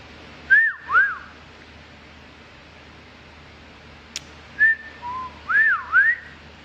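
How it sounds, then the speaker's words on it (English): A person whistles short, clear sliding tones in two separated bursts, nearby and fairly loud against a quiet background, with one sharp tick between them. "you know what they say about people that know how to whistle?"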